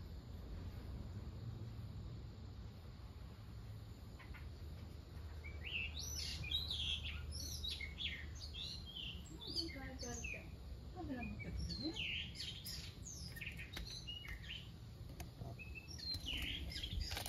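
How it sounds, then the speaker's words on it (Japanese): Birds chirp and call outdoors over a steady low hum of wind or distant noise, the bright tweets clustering in the second half, fairly clear but not close. "かわいい鳥の声。"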